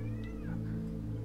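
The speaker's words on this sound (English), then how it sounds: "Shh, kitties." Pet cats meowing at home, a couple of short, fairly clear meows over a steady low hum of background music.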